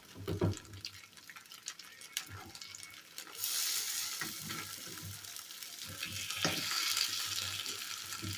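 Oil sizzles steadily in a pan as potato pancakes fry, with occasional clinks and stirring sounds, growing louder partway through; no talking.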